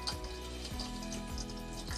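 Stuffed potato fritters drop into hot oil in a small pot, giving a steady close sizzle with fine crackling and bubbling throughout, with no talk.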